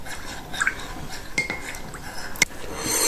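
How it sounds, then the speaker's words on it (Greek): A spoon stirs honey into lukewarm water in a mug, giving a few light clinks and soft liquid swishes, brief and close, with a sharper tap near the end. "Και θα ανακατέψουμε πάρα πολύ καλά για να διαλυθεί το μέλι μέσα στο νερό."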